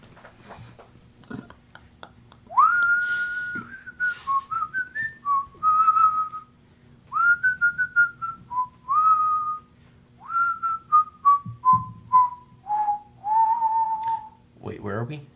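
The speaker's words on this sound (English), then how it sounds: "He's just whistling as he's coming down this magnificent set of carpeted stairs." A man whistles a lilting, wandering tune while walking down a carpeted staircase near a bar, clear melodic phrases with short pauses over a faint low room hum.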